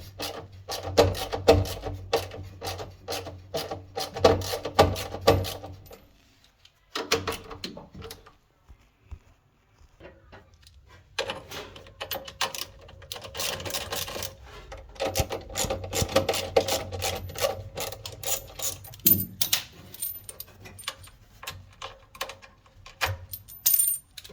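Bolts come out of the motor of a Samsung WW70J4260GS washing machine with scraping, clinking metal tool noises and small rattles. The handling is close and uneven with a short quiet pause, and there is no talking.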